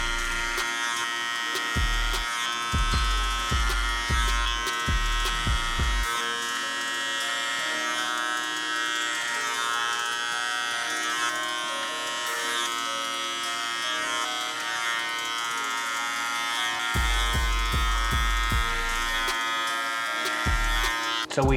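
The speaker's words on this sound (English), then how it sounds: "I'm gonna use clipper over comb, continue that debulking process" Electric hair clippers cutting hair clipper-over-comb during a mid fade haircut, a steady close buzzing hum throughout, with rhythmic low thumps in short bursts as the comb and clipper pass.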